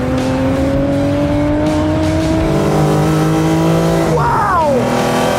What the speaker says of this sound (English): one of the coolest race cars I've ever been in to find out just how quick this XJS is